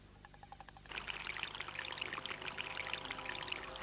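Liquid nitrogen poured onto a brain gives a sudden, steady hissing, bubbling rush that starts after a short lead-in of faint ticking and carries on loudly to the end.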